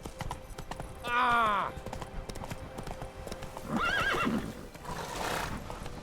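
Roach the horse in The Witcher 3 gives two whinnies, a sharp one early and a longer one midway, over soft hoof clip-clop, with someone talking quietly at times.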